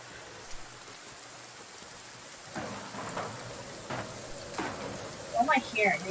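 Rain patters steadily in the survival video game The Forest while low rolling thunder swells in several waves, with people talking over the storm.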